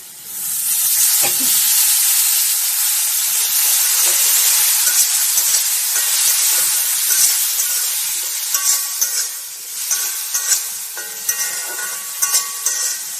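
A spice masala for jackfruit seed curry fries in a pan with a loud, bright sizzle that eases partway through, and stirring scrapes and taps take over toward the end.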